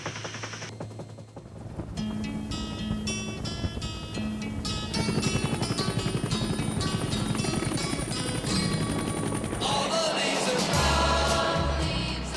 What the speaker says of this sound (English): That's a Huey turning.